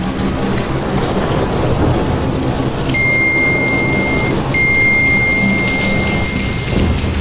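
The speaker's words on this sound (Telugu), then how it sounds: "బయట కూడా బాగా వాన పడుతుంది." Heavy rain pours steadily with a low rumble of thunder underneath, a dense continuous roar, and a faint high electronic tone briefly sounds twice.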